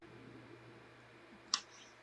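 A single sharp computer mouse click on an icon stands out sharply over a low background hum, with no talking.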